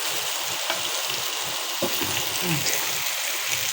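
Chopped eggplant sizzles steadily in hot oil while a spatula stirs it, with a few soft scrapes over the close, continuous hiss of frying.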